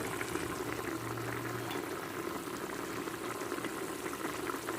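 Water with spices bubbles in a pot for Dindigul Thalappakatti-style mutton biryani, a faint, continuous simmering hiss with no talk.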